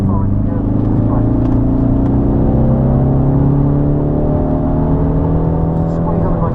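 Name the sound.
car accelerating on Snetterton race track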